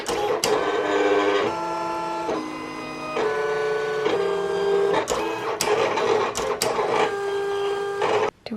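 A Silhouette Cameo 4 cutting machine cuts sticker shapes, whirring motor tones shifting pitch as the carriage moves, broken by sharp clicks and clacks near the end, close and moderately quiet with no voices.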